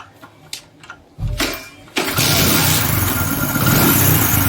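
A Hero Splendor Plus motorcycle with a fault that makes a noise when a gear is engaged: a few faint knocks, then a rumble as the engine starts, settling into a loud, steady running drone up close.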